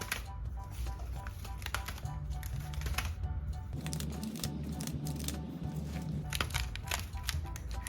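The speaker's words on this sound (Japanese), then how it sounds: "パタパタと裏に返したり表に返してやってみてください" Handmade cardboard and origami pata-pata flip toy, its panels turning over in a quick run of light, dry clacks and taps, close and fairly quiet, with faint talking in the background.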